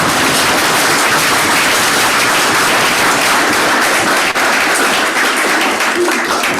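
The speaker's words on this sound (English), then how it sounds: "I think you get another round of applause" Lecture audience applauding at the close of a talk on forests and land stewardship, a dense steady wash of clapping filling the whole stretch with no pause.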